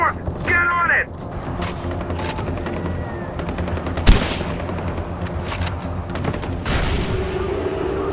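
Gunfire in the Far Cry 4 video game: rapid bursts of automatic shots and sharp single cracks, with one especially loud blast midway, while voices talk over the shooting.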